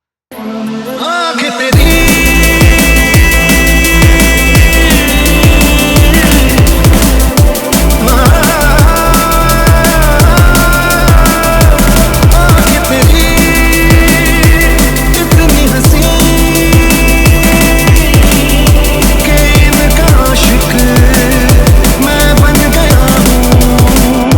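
Drum and bass remix hits its first drop with vocals, a brief quiet intro giving way to loud, driving rapid breakbeats, deep rolling bass and layered melodic lines, with a short dip partway before the groove continues.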